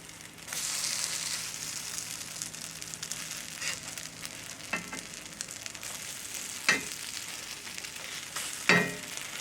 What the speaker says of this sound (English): Tuna patties cooked in cast iron and butter.